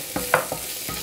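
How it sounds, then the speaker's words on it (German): Onions and cashew nuts sauté in fat in a pan, a soft steady sizzle broken by a few quick scraping stirs, close and fairly quiet with no voices. "Zwiebeln in der Pfanne mit Fett"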